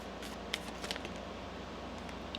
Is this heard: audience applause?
no